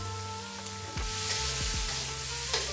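Fried bean curd and potatoes for mee goreng sizzle and crackle in a hot wok while being stir-fried, a steady close hiss with occasional scraping sweeps of the spatula and a low hum behind it.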